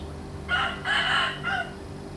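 A Lao fighting cock from Xiangkhouang crows once, a clear nearby cock-a-doodle-doo in three rising and falling parts over a steady low hum.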